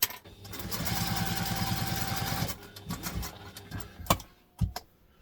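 A sewing machine runs a steady, fast reinforcing stitch along a backpack seam for about two and a half seconds, then stops, leaving a few scattered clicks and knocks of handling up close.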